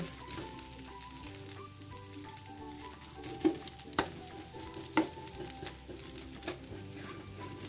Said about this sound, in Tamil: இப்போ பார்த்தீங்கன்னா நல்லா கிண்டியாச்சு